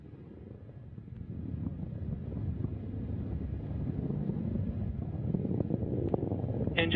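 Rocket engines of a Cygnus cargo launch to the ISS roar as a steady, distant low rumble with wind-like noise, holding constant throughout.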